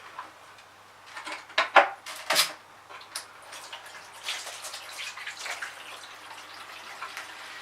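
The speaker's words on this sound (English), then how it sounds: "we run a little bit of water" Water running and splashing from a tap during a massage session, a soft irregular trickle with scattered drips and a few louder splashes, fairly close and alone without talk.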